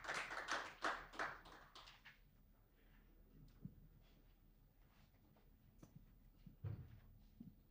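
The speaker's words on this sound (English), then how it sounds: "Let's give him a round of applause as he comes" A small audience at a stakeholder workshop in Kigali, Rwanda, applauds an arriving speaker: a brief burst of clapping at the start that quickly fades, leaving sparse scattered claps and light room noise.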